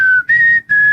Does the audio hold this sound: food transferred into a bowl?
no